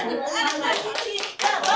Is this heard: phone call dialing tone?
no